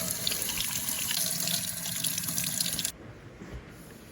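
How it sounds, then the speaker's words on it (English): Warm tap water runs steadily from a faucet into a sink as dishes are rinsed, a close, even splashing hiss that stops abruptly near the end. "Rinse them in warm water."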